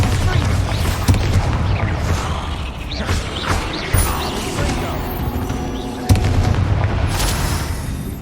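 Bombarda spell explosions in the video game Hogwarts Legacy land as several heavy booms over dense, loud combat noise. Sharp impacts fall around one, four and six seconds, and a voice is heard faintly at times.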